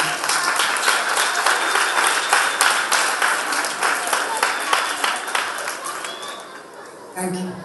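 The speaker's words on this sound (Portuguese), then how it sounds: "Recibimos un fuerte aplauso" A crowd gives strong applause for a teacher representative coming forward to speak at a school arts event, dense clapping sustained for several seconds before tapering off near the end.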